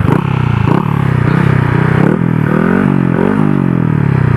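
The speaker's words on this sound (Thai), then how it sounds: "โอ้รถแซงมาพอดีเลย" A motor vehicle overtaking a small Honda-style 110cc scooter on the road, engine drone loud and close with a rising, shifting pitch as the passing vehicle sweeps by, steady throughout without talk.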